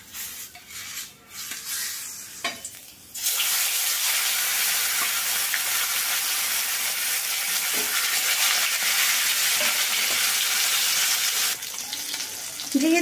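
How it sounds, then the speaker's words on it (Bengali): Koi fish frying in a pan of hot oil over lowered heat, a steady loud sizzle and hiss that rises after a few seconds of quieter kitchen sounds and holds continuously, then drops back near the end. "তো এখন আমি মাছগুলোকে ভেজে নেব।"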